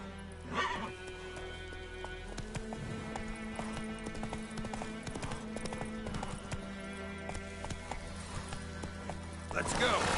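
Hooves clip-clop in a fast gallop from a horse in the video game The Witcher 3, with occasional whinnies and snorts, a low music bed and a voice speaking over the steady hoofbeats.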